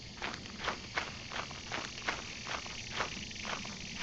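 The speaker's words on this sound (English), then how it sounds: "And there's a bunch of bees." A swarm of bees in the video game Lethal Company gives off a steady, pulsing buzz with a rhythmic throb, moderately loud and with no talking over it.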